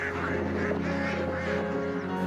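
Ducks quack at a duck farm in Vellore district, Tamil Nadu, a dense flock calling together in a steady overlapping chatter that stays loud and continuous throughout.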